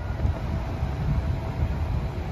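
A steady low rumble and rolling roar from an MBTA commuter rail train hauled by a GP40 locomotive on the Rockport–Newbury line, heard at close range with wind noise and no horn.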